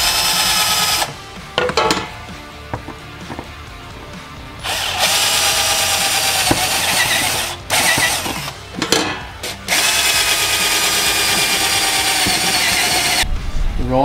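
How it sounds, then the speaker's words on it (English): A power drill bores holes in a supercharged Ford AU's underbody to bolt in a tailshaft loop: loud, close bursts of whining drilling broken by brief pauses and clicks, running several seconds each. "All I gotta do is get a drill bit, drill a couple holes, bolt it in"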